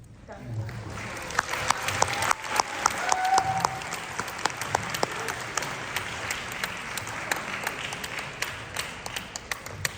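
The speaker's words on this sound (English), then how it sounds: "Ladies and gentlemen, round of applause one more time for the parents of the bride, Olivia Kang and Dale Moose." Guests at a wedding reception applaud together, a steady sustained round of clapping with sharper individual claps, while voices murmur underneath throughout.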